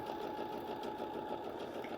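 A Baby Lock sewing machine fitted with a garment maker foot stitches fabric in a steady, fast mechanical whir, quiet and unbroken throughout.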